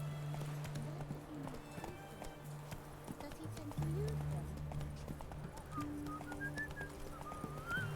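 Horse hooves clip-clopping in Stardew Valley, a steady rhythmic trot under game music with whistle-like melodic tones, moderately quiet throughout.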